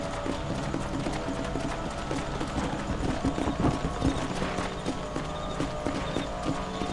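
Horse hooves clip-clop at a steady riding pace in the Western video game Red Dead Redemption, a continuous close rhythmic patter over faint background ambience.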